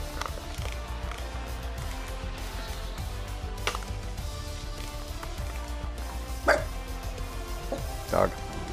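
Several dogs bark in short, sharp bursts over a steady background hum in the racing game F1 23, with a couple of louder yelps standing out near the end.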